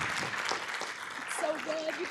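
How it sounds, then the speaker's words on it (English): Applause from an audience at a nursing team presentation, a soft continuous patter of clapping, with a whistle rising near the end. "Can we give these guys one last round of applause?"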